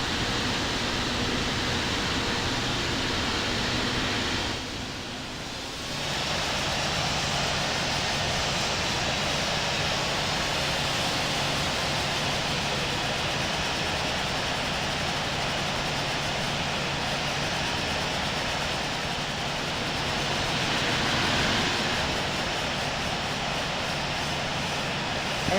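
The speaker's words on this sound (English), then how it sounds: "Cleared for takeoff, runway 35 right," Airliner taking off from runway 35 right, a continuous loud broadband engine roar that holds steady throughout with a brief dip near the start.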